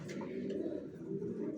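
Racer pigeons, young new adults, coo in a steady low murmur, close and continuous, with soft overlapping calls for under two seconds.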